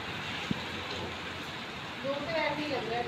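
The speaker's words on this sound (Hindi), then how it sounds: "बहुत ज्यादा बारिश हो रही है" Heavy rain pours steadily outdoors, a dense constant hiss filling the scene, while voices talk and exclaim over it toward the end.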